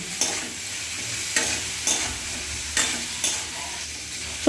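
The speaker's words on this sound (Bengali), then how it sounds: "এবার লবণ আর হলুদ আলুর সাথে খুব ভালো করে মিশিয়ে নিচ্ছি" Potatoes with salt and turmeric are stirred in a hot pan, with a steady frying sizzle broken by regular scraping strokes about every half second to second. The sound is close and clear, with no talking.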